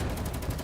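Dense, rapid machine-gun fire rattles in a brief, continuous burst in the video game Girls Frontline 2: Exilium, with heavy low rumble beneath the rapid shots.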